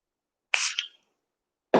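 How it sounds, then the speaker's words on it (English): Hydrating makeup setting spray misted onto a makeup brush: a single short, close hiss of spray lasting about half a second, followed by a brief second puff, with silence around it. "I like to take my setting spray, this is the hydrating setting spray, and I just spray my brush just a little bit"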